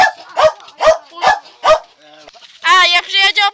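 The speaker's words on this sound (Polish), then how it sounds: "tutaj dziadek ma psa" A dog barks four times in an even rhythm at close range, followed by higher yelping or whining sounds.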